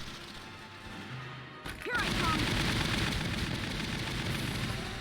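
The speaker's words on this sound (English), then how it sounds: "Enemy fire's got me nailed down here." Enemy gunfire in the video game Valkyria Chronicles, a dense, continuous crackle of shots and impacts that rises sharply after a quieter start and holds loud to the end.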